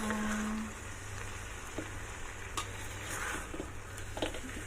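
Pork ribs with black beans and bitter gourd (ampalaya) cooking in a pan, giving a soft, steady sizzle with faint stirring scrapes and occasional light clicks, no talking.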